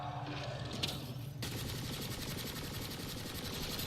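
Rapid gunfire from a combat firefight in the sci-fi game Mass Effect Andromeda, a dense, continuous stream of shots that grows fuller and louder partway through, with no talking.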